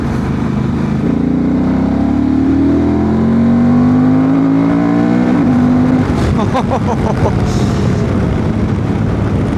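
A Honda Transalp 750 motorcycle pulls hard in third gear from around 3000 rpm, its engine note rising steadily as it accelerates, loud and close, then giving way to rougher wind and road noise.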